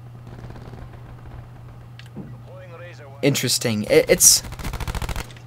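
Rapid bursts of Switchblade X9 submachine gun fire in the Black Ops 4 multiplayer shooter, loud and close, following a stretch of someone talking over faint game background sound.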